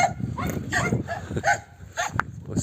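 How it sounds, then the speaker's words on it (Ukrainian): A farmyard dog guarding a pile of firewood near greenhouses barks in a short series of sharp yaps at moderate distance, mixed with rural background noise. "гавкає, бачите, дрова охороняє"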